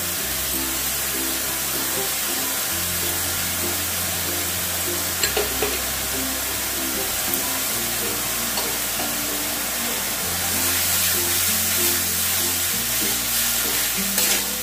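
Onion paste and ginger garlic paste frying in a pan for a prawn curry, giving a steady, close sizzle with stirring throughout, rising a little louder near the end.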